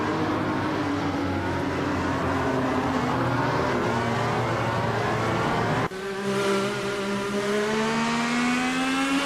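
A 2018 Honda IndyCar engine in a racing video game, screaming at high revs with a continuous loud whine, dropping abruptly at a gear change partway through and then climbing again.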